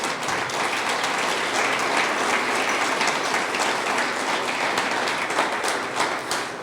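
Church congregation giving loud applause to God during a Spanish-language sermon, a continuous, even roar of many hands clapping from start to finish.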